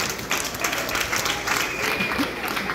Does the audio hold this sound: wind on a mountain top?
no